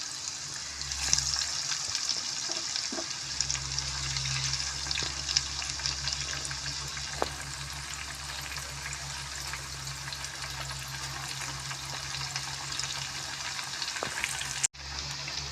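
Spicy jhal pitha fries in hot oil in a wok, a continuous close crackling sizzle with occasional clicks and taps of a utensil, over a low steady hum.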